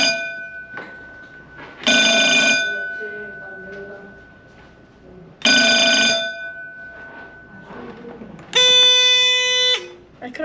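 Electronic alarm going off in the Central Deborah gold mine in Bendigo after someone touches a glass panel, blaring in three loud bursts of harmonic buzzing, with quieter speech between them.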